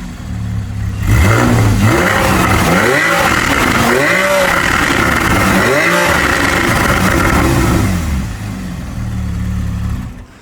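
A 2016 Porsche 911 Carrera GTS coupe, its 430-horsepower naturally aspirated 3.8-liter flat six with sport exhaust, revs hard several times in a row, loud and close, each rise and fall sweeping up and back down before settling to idle.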